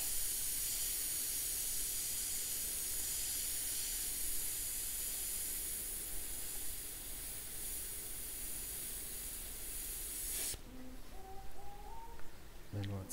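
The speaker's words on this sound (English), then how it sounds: "Then let's switch off this airbrush." Airbrush spraying paint for a cat portrait, a continuous loud airy hiss with a high tone running for about ten seconds before cutting off abruptly, followed by quieter handling sounds.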